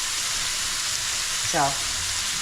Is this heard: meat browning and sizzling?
yes